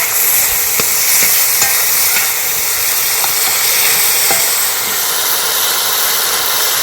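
Tomato chutney being stirred as it cooks down in a pan, with a steady sizzling hiss and occasional scraping strokes of the spoon, close and continuous.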